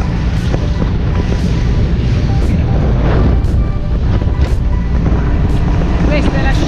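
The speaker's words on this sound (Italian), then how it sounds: "Questa è la scia del motore." A motorboat engine drones steadily while its wake churns and splashes on the water during trolling, with wind buffeting the microphone, loud and continuous.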